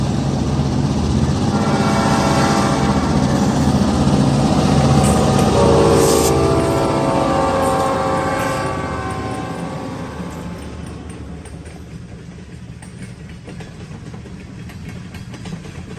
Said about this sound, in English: my dad caught a pair of South Shore Freight SD38-2s in an oil train while he was stopped at a railroad crossing